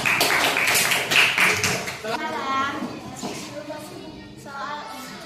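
Students in a classroom clap rhythmically in a quick patterned beat for the first two seconds, then a child's and an adult's voices take over.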